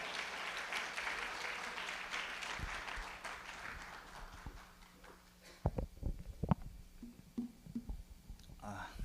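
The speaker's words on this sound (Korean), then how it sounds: "나오실 때 우리 박수로 환영하시겠습니다" A church congregation applauds at a Sunday worship service, a dense wash of clapping that swells early and fades after a few seconds, followed by scattered shuffling, thumps and murmured voices.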